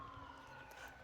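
A distant emergency siren wails faintly over low background rumble, steady and far off.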